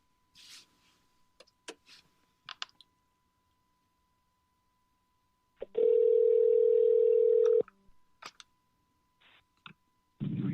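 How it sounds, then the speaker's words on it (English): A telephone call being placed to a radio guest: a steady dial tone sounds alone for about two seconds after scattered soft clicks of dialing, followed by the start of a ringing or line tone near the end. "dialing in Thom Hartmann"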